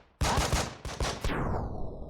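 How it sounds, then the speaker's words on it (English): A sudden, loud, close burst of rapid gunfire from the Breach and Clear tactical game, with several sharp volleys rattling back to back and a ringing tail. "That is a lot of gunfire"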